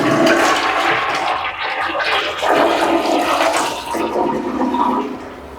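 A toilet in a new apartment flushes loudly and close, a continuous rushing gush of water that holds steady, dips briefly midway, surges again and starts to fade toward the end.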